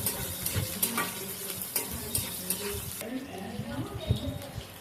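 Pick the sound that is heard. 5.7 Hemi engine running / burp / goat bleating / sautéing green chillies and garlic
sautéing green chillies and garlic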